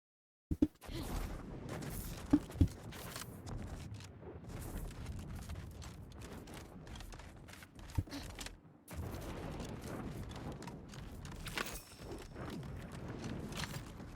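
Pistol fire in a hard-difficulty video game playthrough, a few sharp shots near the start and scattered later over a busy bed of movement and combat noise.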